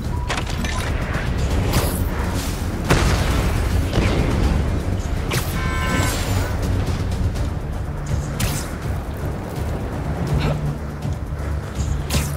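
Railgun shots and explosions in Marvel's Spider-Man 2, loud booming impacts and sharp blasts spaced through a chaotic chase scene, with whooshing motion and a rumbling background.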